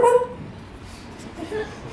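A person imitates a dog with short, whimpering yips and a brief bark-like burst at the start, then quieter breathy whines, close and fairly soft.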